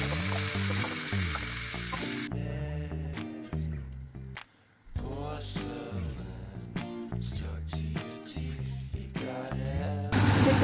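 Whole spices with green and dried chillies frying in oil, a sizzling hiss at the start and end while melodic background music dominates the middle.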